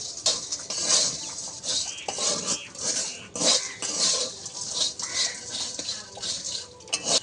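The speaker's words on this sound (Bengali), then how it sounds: "নাড়তে নাড়তে আমি পুরো ঠান্ডা করে নেব।" A spoon scrapes and knocks repeatedly against a pan while coconut chire is stirred to cool it, giving irregular clinks and scrapes with brief pauses and no talk.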